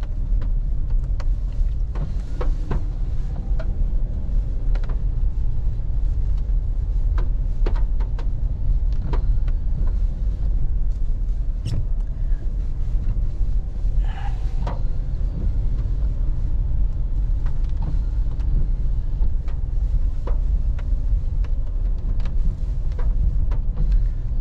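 A Dacia Duster 3 1.2-litre 130 hp 4x4 in Pack Adventure trim drives along rutted dirt tracks. A steady low engine and road rumble runs throughout, broken by scattered knocks and rattles from the bumpy ground.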